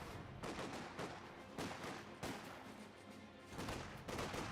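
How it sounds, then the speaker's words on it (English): Machine gun fire from an MG42 in the World War II strategy game Company of Heroes 2: repeated sharp, loud bursts of rapid shots in an uneven rhythm, with no voices. "And got the MG42 here."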